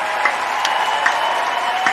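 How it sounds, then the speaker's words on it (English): A round of applause plays on a radio show: dense clapping from a crowd, steady and fairly loud for its short length, with no voices over it. "Let me get a round of applause going on here."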